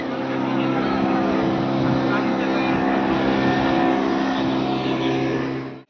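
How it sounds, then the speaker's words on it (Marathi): Motorboat engine droning steadily and loudly close by as the boat sets off from the shore at Devgad, a continuous rumbling hum that cuts off abruptly at the end. "हे बघा निघली बोट"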